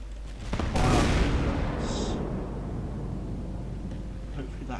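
Naval guns boom in a Roblox game, one heavy blast near the start that rolls off into a long rumbling decay, with a brief mechanical whine afterward and a voice talking quietly over it.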